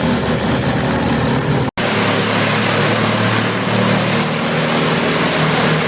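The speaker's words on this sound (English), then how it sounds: "WC2300XL Hull tree chipper operates like a mechanical warrior on the edge of a wooded area" Vermeer WC2300XL tree chipper running at the edge of a wooded area near a suburban home: a loud, continuous engine roar with a heavy low rumble, broken once by a split-second dropout.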